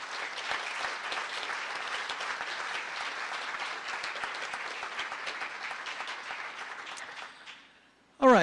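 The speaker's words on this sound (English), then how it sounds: "So a round of applause, please," An audience applauds donors at a live-streamed university event, broad steady clapping sustained for about seven seconds before fading, then a brief voice at the very end.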